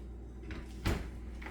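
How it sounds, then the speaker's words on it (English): A household dishwasher door swings shut with a single close, soft thud about midway through, followed by faint rattling in a quiet kitchen. "Close the dishwasher door."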